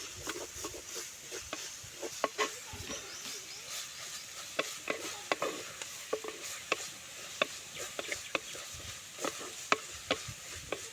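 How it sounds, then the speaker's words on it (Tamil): Gooseberry pickle is mixed with salt and chili powder, a quiet series of soft wet clicks and scrapes from a spoon working the mixture in an irregular rhythm, close and faint, with no talking. "இந்த ஊறுகாய்க்கு தேவையான அளவு உப்பு, மிளகாத்தூள் போட்டு நல்லா கலந்து விடுங்க"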